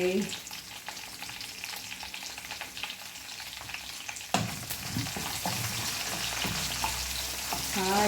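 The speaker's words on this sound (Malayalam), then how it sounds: "അപ്പം കുറേ കൂടുതൽ കറിവേപ്പില അങ്ങോട്ടിടാം" Curry leaves hiss and crackle as they fry in hot oil in a pan, a steady close sizzle that jumps louder midway as more leaves drop in, with stirring clatter underneath.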